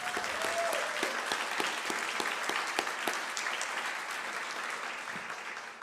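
Audience at a public forum on the Lansdowne 2.0 proposal breaks into a sustained round of applause, many hands clapping steadily with a few sharper claps near the front, slowly easing toward the end.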